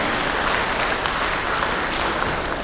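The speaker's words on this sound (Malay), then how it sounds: "Berikan tepukan gemuruh kepada saya." Steady, dense audience applause at an UMNO youth division conference, many hands clapping at even loudness throughout with no voices standing out.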